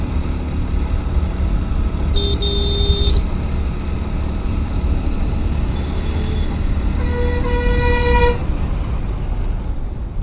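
A traffic jam on the road from Delhi toward Badrinath, with cars and trucks honking repeatedly: a steady low engine rumble under several loud, sustained horn blasts, one near the start and a longer one near the end.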